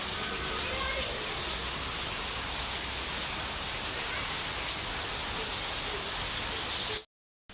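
Heavy afternoon rain pours down in a dense, even hiss that stays steady and close for about seven seconds, then stops abruptly.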